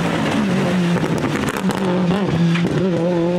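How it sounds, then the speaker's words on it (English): Turbocharged Ford race car with anti-lag, producing a loud, rough engine note full of rapid crackling exhaust detonations and shifting revs, close and continuous. "The result is an actual explosion or detonation inside the exhaust manifold before the turbo."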